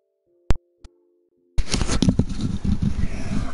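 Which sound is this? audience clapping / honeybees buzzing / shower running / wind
shower running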